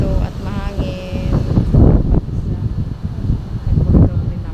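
Gusty wind buffets the microphone in loud low rumbles, with a voice speaking briefly underneath.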